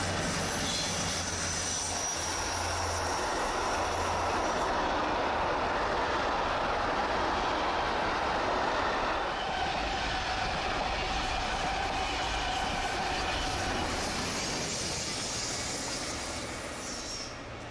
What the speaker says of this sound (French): Cela a imposé le détournement de quelques trains de fret par la ligne des Sauvages avec pousse attelée pour permettre le franchissement de la rampe de 26 pour 1000.